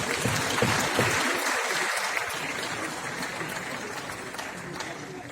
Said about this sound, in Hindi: पुरस्कार प्राप्त कर रहे कलाकारों के लिए जोरदार तालियां।